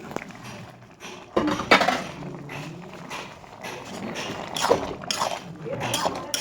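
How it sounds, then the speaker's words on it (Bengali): A metal pot lid lifted off a cooking pot of prawn and spinach curry with bottle gourd, giving a couple of close clanks and clinks amid kitchen handling noise. "তারপর আমার লাউটা একটু শক্ত রয়েছে, ঢাকাটা খুলে দিচ্ছি।"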